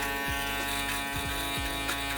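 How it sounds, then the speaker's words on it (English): An electric foil shaver trims a beard with a steady, close, continuous buzzing hum that shifts slightly in pitch as it moves over the face, with no talking. "now we're gonna finish everything up with a foil shaver"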